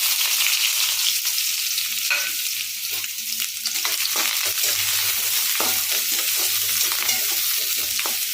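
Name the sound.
onions frying and being stirred in a pan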